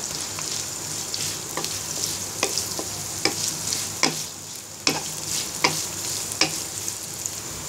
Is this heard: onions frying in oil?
yes